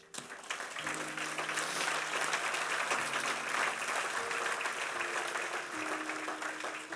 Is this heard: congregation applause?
yes